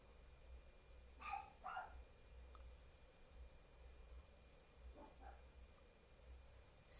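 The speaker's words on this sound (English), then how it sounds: "the dogs are barking again" Faint dogs bark a few times in the distance, two quick barks early and another later, over a quiet low hum.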